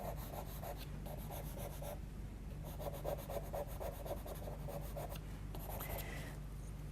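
Charcoal scrapes and rubs across paper in short rhythmic bursts, faint and close, with pauses between strokes as black is worked into a drawing.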